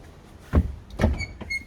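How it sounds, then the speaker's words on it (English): Door of a Blue Bird school bus closing during a pre-trip inspection, two or three short mechanical thumps and clunks with faint high squeaks after them, close by. "Okay, close the door."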